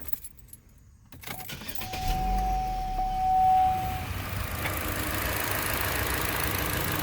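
A Chevrolet Sonic engine cranks after a rattle of keys, catches within a second or two and settles into a steady, even idle, a continuous mid-level hum with a brief whining tone as it starts.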